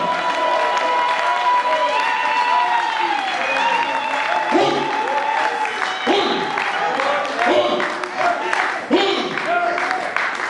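A worship congregation applauds and cheers in praise of the Lord, loud sustained clapping mixed with shouts and voices, with musical tones ringing underneath and bursts swelling throughout.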